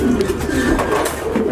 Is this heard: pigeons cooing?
yes